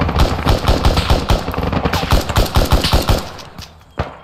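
Sustained machine-gun suppressing fire in an Arma 3 military simulation, a long rapid burst of loud, close shots that tails off near the end, followed by one final isolated report.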